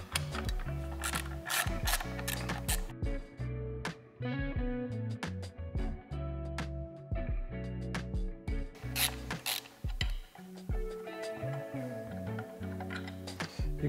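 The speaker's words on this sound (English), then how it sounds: "step four is removing the bolt at the AC tensioner" Close ratchet clicking steadily for about fourteen seconds as it works the bolt free at the AC tensioner during a Rotrex supercharger kit install, with loud metallic ratcheting in short bursts and no talking.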